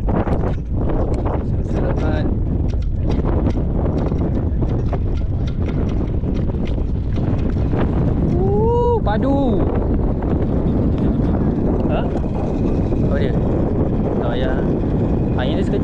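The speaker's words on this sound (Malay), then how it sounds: "Angin dah kuat." Strong wind roars at sea around a small fishing boat, a constant loud buffeting across the whole span, with brief voices and faint water noise mixed in.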